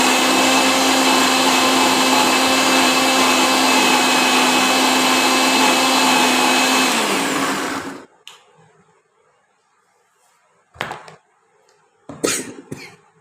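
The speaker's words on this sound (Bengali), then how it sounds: "মশলাটা একটু বেটে নিচ্ছি।" A mixer grinder whirs loud and steady as it grinds spice paste for chicken kosha, then cuts off abruptly, leaving near silence broken by a few short knocks and clatters.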